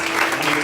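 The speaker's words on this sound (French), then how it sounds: "Il mérite nos acclamations." A church congregation applauding during a worship service, a dense burst of clapping heard for only a brief moment.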